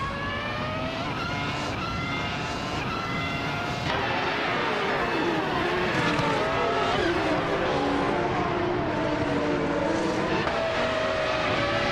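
A Ferrari F2004 race car in a racing game holds a steady, high-pitched engine whine with rising and falling revs and gear changes, loud and continuous throughout.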